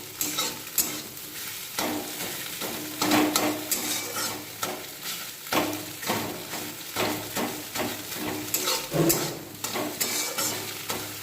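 An egg fries in a pan for egg chicken chow mein while being stirred, with rhythmic scraping strokes repeating every second or so over a continuous close sizzle, no talking.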